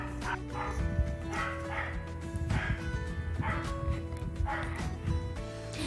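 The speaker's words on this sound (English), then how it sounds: "this part is brought to you by the barking dog in our neighbor's house" Dog barking from a neighboring house, repeated yapping barks in an irregular rhythm, moderately close and steady throughout, with a faint whimper mixed in.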